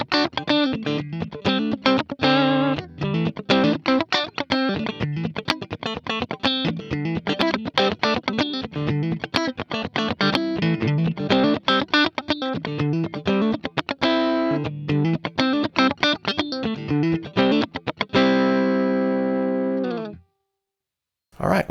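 A Donner DST 400 electric guitar set to its fourth pickup position plays a long, quick riff with a bright, quacky tone through effects. The notes are close and even and end in a held chord that rings out, then silence.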